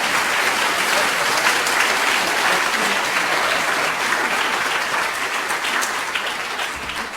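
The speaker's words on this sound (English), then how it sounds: "a big round of applause for our Master of Ceremonies" A full hall applauds the master of ceremonies at an academic excellence awards evening, a thick, sustained wash of clapping that holds steady for the whole stretch and tapers slightly at the end.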